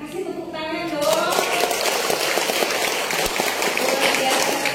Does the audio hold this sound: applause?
yes